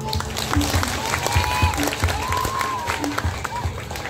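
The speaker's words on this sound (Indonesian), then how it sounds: "Tepuk tangan." A crowd claps and cheers steadily with voices mixed in at a Balinese drama gong performance, sounding like a lively audience at a distance.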